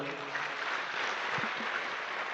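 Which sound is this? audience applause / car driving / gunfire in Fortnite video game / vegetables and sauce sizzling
audience applause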